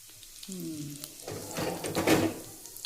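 Cumin seeds dropped into hot oil for a lemon bitter gourd dish, heard as a rising crackling sizzle with clattering pan sounds, loudest toward the end.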